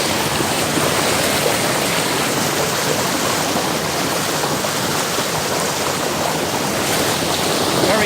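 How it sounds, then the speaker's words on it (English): Creek water flowing and falling in a steady, loud, unbroken rush, close by and filling the scene alone with no voices. "Falling water here."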